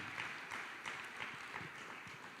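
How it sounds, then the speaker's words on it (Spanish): Church congregation clapping together in a worship service, a steady wash of many hands with soft rhythmic swells, moderately distant and fairly quiet, with no talk over it. "vamos a darle un aplauso a la presencia de Dios para la palabra"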